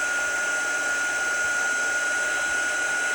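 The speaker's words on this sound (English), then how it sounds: "I'm going to hit it with my heat tool." A heat tool blasts over watercolor paint in a steady, loud, close whoosh with a thin high whine running through it, continuous and unbroken.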